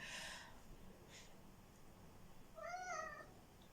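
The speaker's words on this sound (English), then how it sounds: "That's my cat." A house cat meows nearby, a single rising and falling call near the end, preceded by soft breathy snorts and sniffs over quiet room noise.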